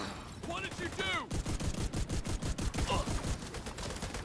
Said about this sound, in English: with an automatic shotgun